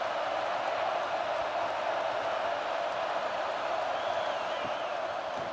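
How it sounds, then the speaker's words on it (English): Steady, dense stadium crowd roar from a college football video game, a continuous broad wash of noise at constant level throughout with no distinct cheers or applause peaks. "This crowd bringing the energy and noise early."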